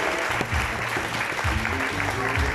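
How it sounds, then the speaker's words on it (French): Warm audience applause at a Miss Sète 2020 beauty pageant as a runner-up is announced, dense steady clapping over music and low background sound throughout. "Vous pouvez l'applaudir chaleureusement."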